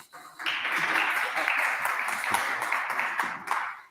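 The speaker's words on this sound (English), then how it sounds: "That's the applause already." A conference audience breaks into applause at a tech session, a steady dense patter of many hands clapping that starts abruptly and holds for a few seconds before tapering.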